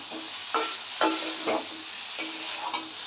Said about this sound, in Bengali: এবার নাড়তে থাকবো একটু নাড়াচাড়া করে